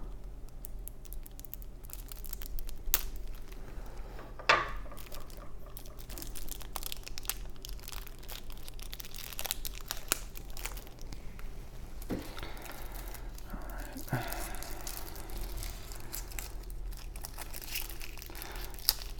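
Yu-Gi-Oh! first edition starter deck card packaging being carefully opened, with steady soft crinkling and tearing of plastic wrap throughout, close and fairly quiet, one sharper rip partway through, and no talking.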